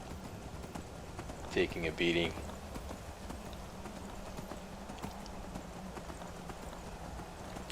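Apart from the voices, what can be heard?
horse hooves in a video game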